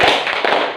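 A classroom of pupils clapping hands together on a count, a loud ragged burst of several claps in under a second.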